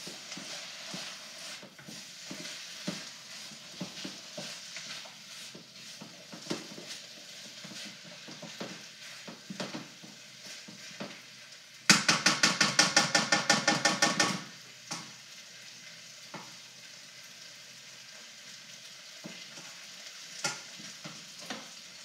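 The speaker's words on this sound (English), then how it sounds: "We're just going to be adding some chopped green onion here soon. Let's mix it all together here." Duck fried rice with chopped green onion stirred in a pan: a continuous close sizzle punctuated by repeated scraping and tapping of a utensil, including a burst of fast rhythmic clattering partway through, with no talk.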